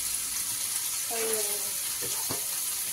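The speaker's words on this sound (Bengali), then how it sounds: "এই যে কুমড়ো শাকগুলো আলুর সাথে ভাজা হয়ে গেছে" Pumpkin greens and potatoes frying in a pan give off a steady, dense sizzle, loud and continuous, while a voice talks briefly over it.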